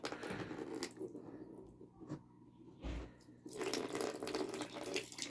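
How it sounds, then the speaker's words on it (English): Water gurgles and rushes through a siphon tube drawn from fish tank gravel, a close, wet flowing sound that briefly drops away in the middle before surging back. "suck up so the water goes into the tube"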